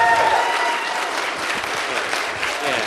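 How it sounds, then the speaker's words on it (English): An audience in a live stage event applauds a speaker, a dense, sustained wash of clapping from a sizable crowd that continues steadily without pause. "can we get a proper applause for Aaron Ra?"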